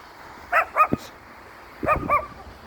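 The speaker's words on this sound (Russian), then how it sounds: "Чего ты лаешь?" A dog barking on a snowy residential street of private houses in Grozny, two short bursts of sharp, high barks and yips separated by a pause, moderately close over quiet outdoor background.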